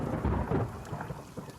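Outside thunderstorm with rain, a deep rolling thunder rumble over steady hissing rainfall, loud at first and then easing into a softer patter.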